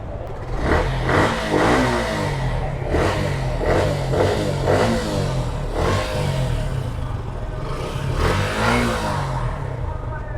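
A 2022-model motorcycle with a slightly rusty tank revs loudly and close up, its engine rising and falling in repeated throttle bursts over a steady rumble, with no talk.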